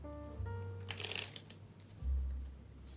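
Playing cards handled and slid into the middle of a deck during a card trick, giving a brief soft riffling flutter followed by a low thump, quiet and close.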